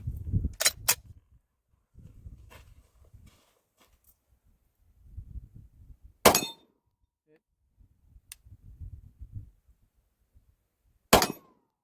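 A Glock 17 fires several spaced shots at a steel target outdoors, each a sharp loud crack, with quiet shuffling and handling noises between the shots.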